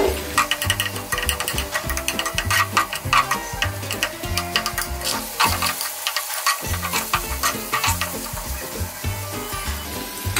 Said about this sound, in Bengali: আমার ডিমটাও এখানে ভাজা হয়ে গেছে।